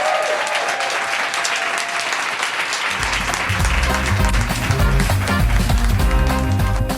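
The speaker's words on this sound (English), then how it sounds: "Let's get one more round of applause." Podcast audience applause fills the space with dense, steady clapping throughout, joined by a deep rhythmic thumping that starts partway through.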